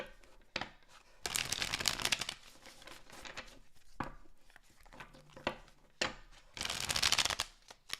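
Tarot cards are shuffled in several brisk bursts of riffling and slapping, separated by quieter handling and taps, all close and fairly soft.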